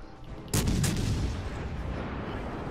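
Yamato battleship main guns firing in a naval game: one sudden heavy boom with a quick follow-up blast, then a long rumbling decay, loud and close.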